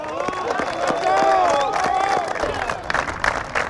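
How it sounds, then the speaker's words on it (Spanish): Gas pipeline construction workers applaud and cheer together, clapping mixed with whoops and overlapping voices of a crowd, fairly close and lively, fading slightly toward the end. "Aplauso para ustedes, compañeros."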